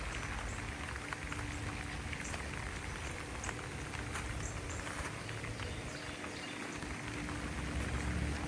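Steady heavy rain falls on a vegetable garden with tomatoes, cucumbers and peppers, a constant soft hiss with faint scattered patters, fairly quiet and with no speech.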